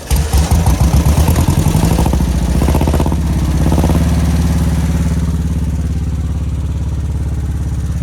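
A junkyard dune buggy engine running loud and close, a rough rapid chugging that settles into a steady, slightly uneven idle with mechanical clatter throughout, no talk.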